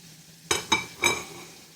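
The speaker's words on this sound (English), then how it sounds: "these are frying up beautifully" Chicken pieces frying in hot oil, three sharp bursts of crackling sizzle in quick succession over a faint background bubbling, close and fairly loud with no talk.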